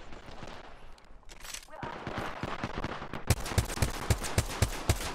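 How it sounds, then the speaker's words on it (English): Shots fire in a video game shooter, scattered at first, then a steady run of sharp, loud reports roughly every half second, with voices talking under the shooting. "Oh, Peanut, I missed every shot on that person."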